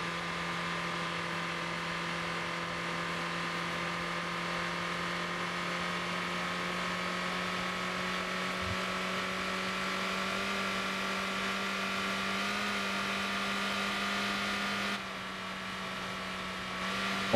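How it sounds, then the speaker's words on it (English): Steady, loud car engine drone in the Motor Town driving game, holding a constant pitch with a faint wind-like hiss over it, running continuously with no talk and only a brief dip near the end. "I can't hear the music over the sound of this engine."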